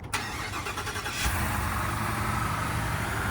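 A 2024 Ford F-350 Super Duty's 7.3-liter engine cranks briefly on a cold start and catches, then settles into a steady, rumbling idle that continues evenly to the end.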